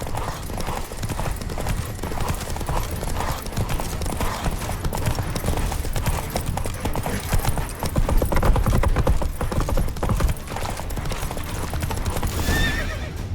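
Horse hooves clip-clop steadily in The Witcher 3 video game, with whinnies and neighs over a constant dense game soundscape of music and ambience, loud and close throughout.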